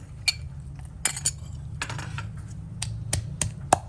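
Red spur chillies, bird's eye chillies and garlic are pounded coarsely in a mortar, giving sharp, irregular knocks and clinks. The blows are spaced unevenly and sit over a quiet background.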